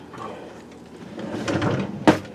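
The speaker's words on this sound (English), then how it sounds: "I'll check in this drawer also." In a home kitchen, a drawer slides and rattles open, followed by a sharp, close knock as it shuts near the end, with no talking.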